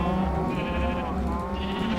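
Bleating from a sheep in the video game Minecraft, a sustained wavering cry lasting about two seconds, loud and close with nothing else heard.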